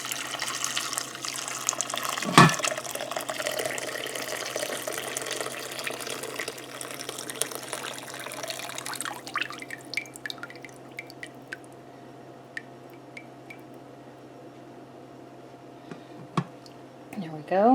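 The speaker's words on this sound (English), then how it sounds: "I'm going to go ahead and pour this liquid through" Bone broth from turkey leftovers pours steadily from a pot into a strainer, a continuous splashing trickle that thins to drips and small clinks near the end.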